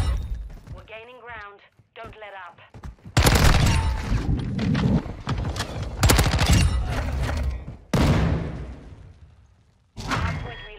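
Chimera assault rifle fire in Modern Warfare 2, loud rapid bursts of automatic gunshots in several long volleys with short gaps, a voice heard briefly at the start.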